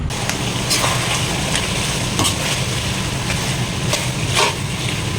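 Spicy pork adobo with sugar and hot chili stirred in a cooking pot at a boarding house, a steady sizzling simmer broken by scattered scrapes and clicks of the spoon against the pot, close and continuous with no voices.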